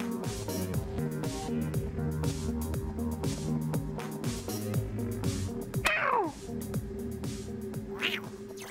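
A cat meows twice in a video game, once in a falling cry and later in a short higher call, over looping game music and background sound effects.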